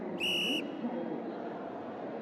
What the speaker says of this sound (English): one of them had a whistle that he kept blowing at absolutely nothing, just to remind everyone that he existed.